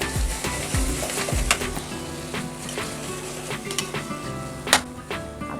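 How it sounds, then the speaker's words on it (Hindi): Carrot halwa with almonds and other dry fruits being roasted and stirred in a pan, steady sizzling under repeated spoon scrapes and knocks, close by. "अब इसी के साथ इसको बढ़िया से भूनते हैं।"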